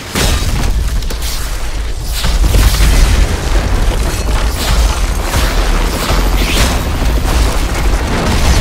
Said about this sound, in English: Rocket!